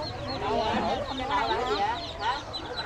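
Chickens cluck at a rural country market in Vietnam's Mekong Delta, steady and fairly close, while several people talk over the birds throughout.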